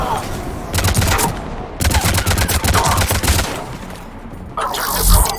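Sniper fire and other gunfire in the Mass Effect 3 video game: loud, dense bursts of rapid shots in several runs, with short gaps between them and some voice underneath.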